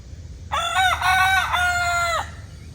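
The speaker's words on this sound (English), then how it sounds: "They're all three roosters, the chicklets are crowing." A young rooster, one of three chicks just learning to crow, lets out a single close, loud crow of about two seconds with a wavering, uneven shape, with no voices over it.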